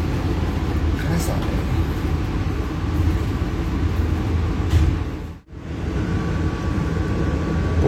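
The Brantas economy passenger train pulling out of Madiun station at night, heard from inside the carriage as a loud, steady rumble and rattle, with a brief dip in the noise partway through.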